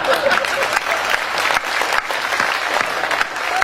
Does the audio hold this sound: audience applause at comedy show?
yes